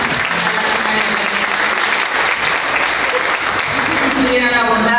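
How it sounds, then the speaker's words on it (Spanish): Strong applause from a conference audience on constitutional reform of Mexico's judiciary, sustained even clapping throughout, with faint voices rising near the end. "Vamos a brindarle un fuerte aplauso."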